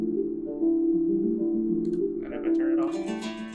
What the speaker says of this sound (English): So instead, what I do is I have this guitar kind of playing with this filter.